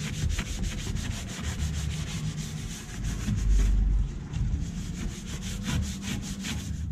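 Steady scrubbing and rubbing as protective product is worked onto metal car parts, a continuous close, fairly quiet friction texture with rhythmic strokes throughout.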